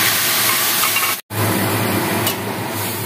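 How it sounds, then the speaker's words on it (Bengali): Boiled matar (pea) dal poured into a hot pan, a loud continuous hiss and sizzle that cuts out for an instant and then resumes just as strong. "দেখুন মটর ডাল সেদ্ধটা ঢেলে দিয়েছি"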